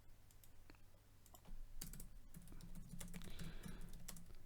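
Computer keyboard keys clatter in quick, irregular taps, close and quiet, with a short flurry of keystrokes over a faint steady hum.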